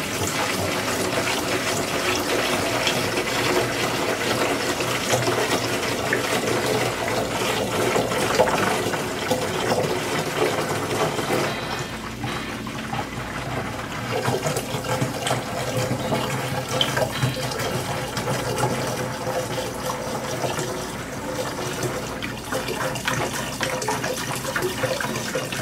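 Welding machine coolant pours steadily down a drain, a continuous close splashing, gurgling liquid flow that runs for the whole stretch without a break.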